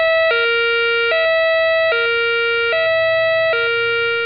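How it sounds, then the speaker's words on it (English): COMAR major incident alarm at the Fawley site, a loud two-tone electronic warble that alternates high and low notes about once per second, repeating steadily with a faint low hum underneath. "a special COMAR alarm will be sounded if there's a danger to the public"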